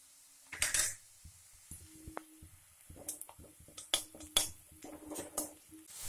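A spoon clinks and scrapes in a pan as green chillies, curry leaves and turmeric are stirred in ghee for Gujarati upma, with faint, irregular metallic taps and rattles close by.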